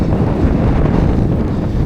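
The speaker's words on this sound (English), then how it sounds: "windy, rainy" Loud, steady wind buffeting the microphone on a walk around Black Hill in wind and rain, a constant low roar with no voices.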